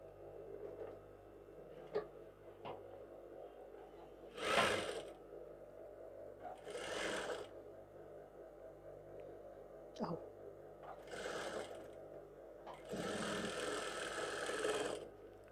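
A sewing machine stitches the armhole of an off-shoulder blouse in several short bursts of whirring with quiet pauses between them, close up, alongside a low background hum and faint handling noises.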